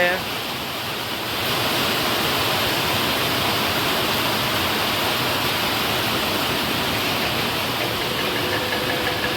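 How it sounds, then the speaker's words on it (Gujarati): Heavy monsoon rain pours down over Rajkot city in a dense, steady roar that swells slightly after the first second and then holds constant. "ધોધમાર વરસાદ આવ્યો મિત્રો"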